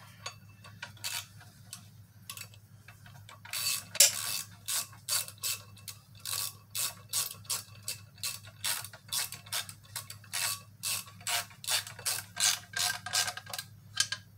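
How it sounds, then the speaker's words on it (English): A hand ratchet cinching down clutch bolts on a Jeep 4.0 engine, bursts of rapid clicking strokes repeating in a steady rhythm, close and clear with no talk. "going to cinch these down with the rest of the way with the ratchet"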